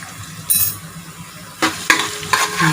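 Garlic and chili fry in hot cooking oil with a soft background sizzle, punctuated by several sharp bursts of stirring and clinks of a utensil against the pan, close by.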